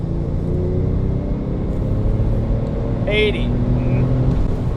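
Porsche 911 Turbo 997 pulling hard at full throttle in fourth gear from 3,000 rpm, a steady loud engine drone and road rumble from inside the cabin, with a brief spoken word partway through.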